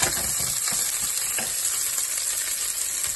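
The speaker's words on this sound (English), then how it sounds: "I put the red pepper in, the garlic and the onion in" Red pepper, garlic and onion frying in a pan for octopus stew, a steady close sizzle with soft stirring scrapes and crackles and no voices.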